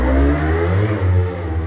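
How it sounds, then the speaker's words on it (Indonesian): Motor whirring steadily under increasing load on a 3-in-1 unit, rising slightly in pitch as the current is turned up, loud and close with no talking. "ada suara motor tuh"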